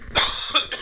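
A man gives a short burst of harsh, close coughs, two or three quick hacks in under a second, loud and alone.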